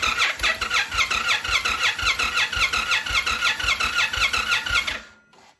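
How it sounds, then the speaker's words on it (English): Indian Challenger motorcycle engine, a 2020 model with a compression release failure, cranks with the throttle held wide open, giving a steady fast rhythmic chugging for about five seconds before cutting off abruptly. "crank the engine."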